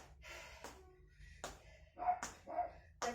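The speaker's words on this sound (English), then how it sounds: "I apologize for my puppy doggy." A puppy gives a few short, sharp yips and barks close by indoors, spaced irregularly with quiet gaps between them, fairly faint overall.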